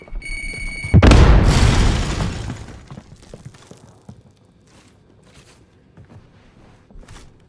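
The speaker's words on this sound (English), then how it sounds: "Grenade out!" A grenade explodes with one sudden loud boom that rolls into a long fading rumble, preceded by a brief beeping tone and followed by faint scattered rattles.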